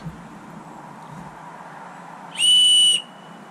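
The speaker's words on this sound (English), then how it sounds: "It works pretty good too. Little signal whistle." A small survival signal whistle from a camping kit gives one shrill, steady blast of about half a second, loud and close, over a quiet background.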